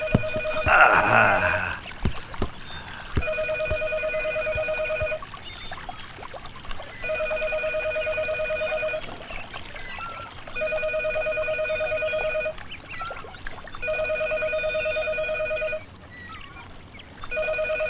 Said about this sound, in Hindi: फोन बजे जा रहा है, कोई उठा तक नहीं सकता।